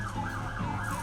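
A police siren wails faintly in the distance, its pitch rising and falling, with low outdoor traffic rumble underneath.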